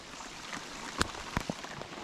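Rain shower falling around a pond during a bass fishing outing, a soft steady patter with a few sharper drop hits standing out, fairly faint and without talk.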